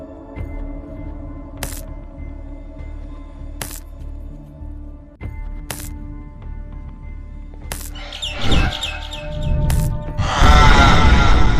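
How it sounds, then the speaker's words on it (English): A bird diving in the video game Garten of Banban 6: sparse clicks and chirps over a steady hum, then a loud rushing swoop building near the end, with no talk. "Get the bird to dive one more time."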